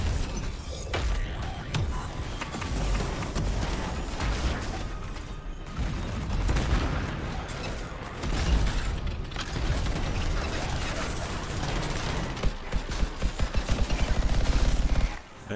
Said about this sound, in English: And now we're shooting bugs again.